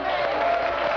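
A large crowd at a religious debate event cheers and applauds in a dense, continuous roar, loud and unbroken for the whole second.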